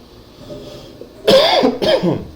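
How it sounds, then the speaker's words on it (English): A man with bronchitis coughs twice in quick succession, harsh and close, after a stretch of quiet room tone. "Forgive me if I'm coughing a lot."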